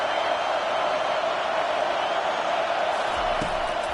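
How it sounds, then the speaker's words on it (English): Home crowd noise in a football video game on a third-down defensive stand, a constant roaring wash of cheering that stays loud and even, with a brief thump near the end. "Here comes this home crowd as the defense tries to get off the field on 3rd down"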